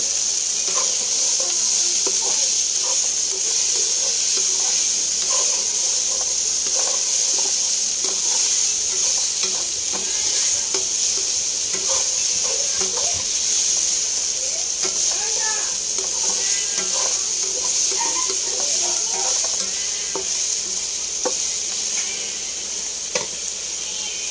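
Onions sauté in a hot pan for chicken adobo with egg, a loud constant sizzle with scraping stir strokes throughout, close and dense.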